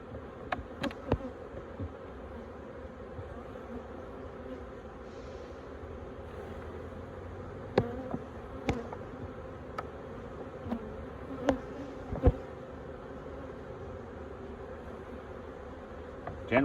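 Continuous low droning hum of many honey bees buzzing close by around a hive, with occasional sharp clicks and knocks over the top.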